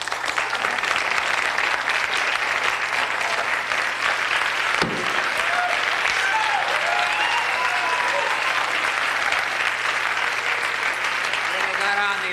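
Studio audience applause on a 1982 late-night TV comedy show, loud, dense and sustained throughout, with a speaking voice heard over the clapping midway.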